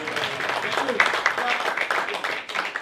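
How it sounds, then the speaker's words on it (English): A comedy show crowd at a fringe festival applauds the comedian's mum. Moderate, scattered clapping runs under voices and chatter. "Could you have a round of applause for my mum, please?"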